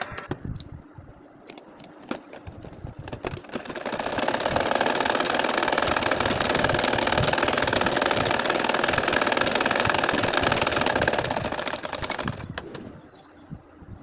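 An ordinary home sewing machine stitches a baby kantha quilt. After a few quiet clicks, a steady motor whir starts, runs continuously for about eight seconds, then winds down. There is no talking.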